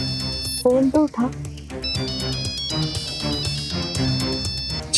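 A phone ringtone chimes in steady high repeating tones during a Hindi TV drama scene, mixed with background music and people talking over it.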